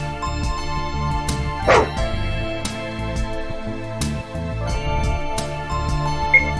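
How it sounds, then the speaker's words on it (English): A dog in the video game The Worst Noel gives a few short, close woofs and yips spread over several seconds, with other game sounds around them and no speech. "It was Christopher's trusty dog."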